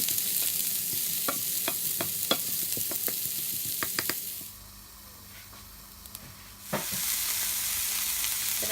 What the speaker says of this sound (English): Once the oil's heated up, we're going to add the onions. So here it goes, along with the green chili.